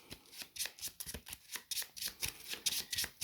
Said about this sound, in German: Mischen wir mal Yugis Deck.